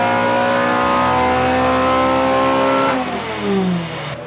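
A Toyota MR2 engine revs hard on a dyno, a loud sustained harmonic howl that climbs through a gear, then drops as the throttle lifts and revs fall away near the end.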